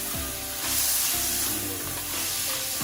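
Bell peppers stir-fried in hot oil for chicken chow mein hiss and sizzle steadily, with a few scraping stirs of a utensil close by and no talking.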